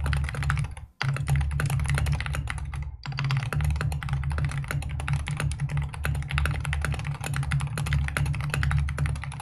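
Fast, continuous typing on a one-year-old, worn Wooting magnetic-switch keyboard with a slightly hollow, rattly clack, loud and close, broken by two brief pauses.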